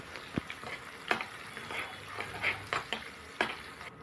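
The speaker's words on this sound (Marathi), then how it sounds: "कांद्याला आपल्याला तांबूस रंग होईपर्यंत परतून घ्यायचा आहे" Onion is stirred and sautéed in a pan for a besan methi sabji, a quiet, steady frying sizzle broken by several sharp clicks and scrapes of the spoon against the pan.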